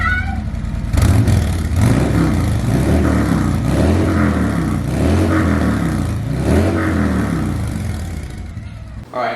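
A 2019 Harley-Davidson Street Glide Special with Vance and Hines power duals exhaust and FP4 tune, loud close repeated revving with a deep rumbling idle between throttle blips.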